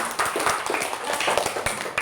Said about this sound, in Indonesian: Udah ya, tepuk tangan ya